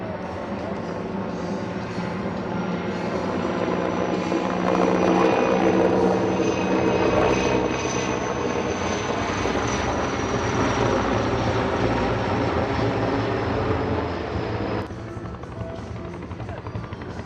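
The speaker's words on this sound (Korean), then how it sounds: "과거 우리 군에서 운영하던 UH-1H입니다." A UH-1H forest-fire-fighting helicopter flies overhead, its loud, steady rotor and engine roar holding for a long stretch before easing slightly toward the end.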